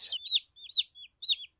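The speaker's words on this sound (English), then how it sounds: "They're chicks, and they're only a few days old." Chicks only a few days old cheep in three or four short, bright, high peeps, close and clear against quiet.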